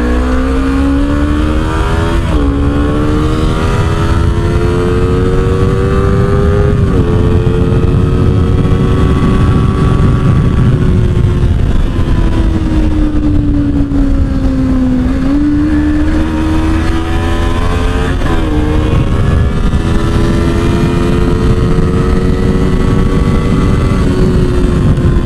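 A Honda CBR250RR motorcycle accelerating hard, its loud engine whine climbing through the revs, dropping briefly at gear changes and climbing again, continuous and close over wind noise.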